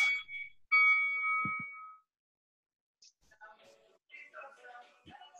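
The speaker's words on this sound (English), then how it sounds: "All right, I'm gonna start our timer" An electronic workout interval timer starting during a live exercise class gives a few sharp beeping tones, then a pause, followed by brief faint bleeps and a voice speaking over them.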